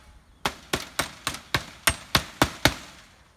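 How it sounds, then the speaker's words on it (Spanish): A hammer strikes the wire of a homemade rabbit cage to bend it over, giving nine sharp metallic blows at a quick, even pace, close and loud with no talking. "es nada más con el martillo"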